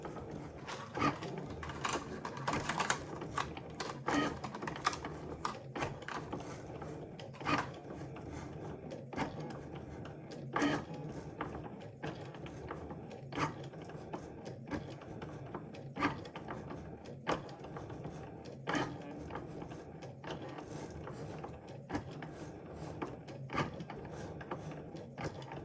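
A Cricut machine draws with watercolor markers, giving a quiet, steady mechanical whir with regular ratcheting clicks and brief gear movements throughout, with no talking.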